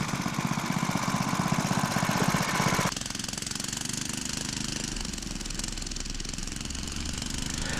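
A Manco Dingo Deuce go-kart engine runs with a loud, rapid, rattling putter that drops abruptly to a lower, steadier idle partway through and keeps chugging evenly.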